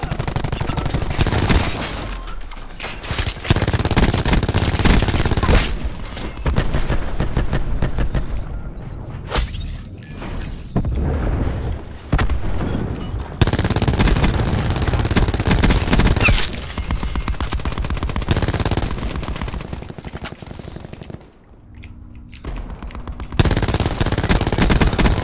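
Sustained automatic gunfire from a Call of Duty Black Ops 4 multiplayer match, loud bursts of rapid shots running almost continuously with brief lulls and occasional explosive booms.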